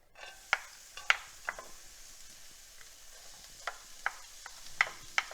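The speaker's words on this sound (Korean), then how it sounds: "양파를 좀 볶으시다가요." Onion sautés in a hot pan with a little avocado oil, giving a steady low sizzle broken by sharp intermittent knocks and scrapes of a utensil stirring, close and clear without talk.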